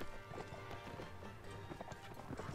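Horses gallop with rapid clip-clop hoofbeats in the Mount and Blade video game, steady and busy amid battle noise, with occasional voices mixed in.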